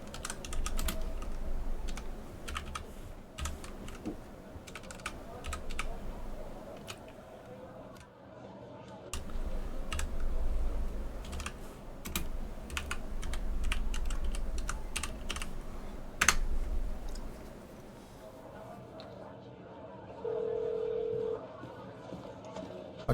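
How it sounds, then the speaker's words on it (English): Steady computer-keyboard typing during play of the game The Operator: crisp, irregular key clicks in quick bursts with short pauses, close and fairly loud, while a voice talks intermittently over it. "this one I actually have to type in myself rather than just bashing randomly on the keyboard"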